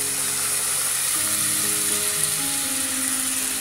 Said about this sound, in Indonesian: sekarang kita akan tumis.